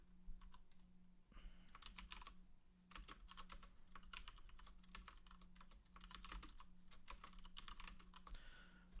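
Rapid keystrokes on a computer keyboard clatter in irregular bursts throughout, close and moderately loud over a steady low electrical hum.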